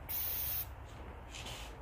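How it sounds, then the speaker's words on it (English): A Petra one-gallon hand-pump sprayer releases a brief, loud hiss of spray from its wand that cuts off abruptly, followed by a fainter, softer spray hiss. "I'm spraying."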